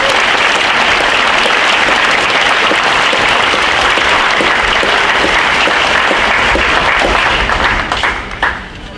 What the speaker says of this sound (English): let's give a collective round of applause to all those